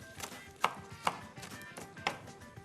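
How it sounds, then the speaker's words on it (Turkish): Three sharp knife strikes chopping chard on a cutting board, spaced unevenly, over a low kitchen background with no talking. "Pazıları ufak ufak doğramamız gerekiyor"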